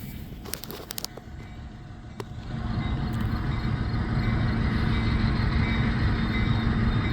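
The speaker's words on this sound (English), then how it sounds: "I thought that was the tourism train, but nope. Just a transport train." A transport train passes at a historic battlefield site, its low rumble building after a few seconds and then holding as a steady, loud roar, with a few clicks and knocks at the start.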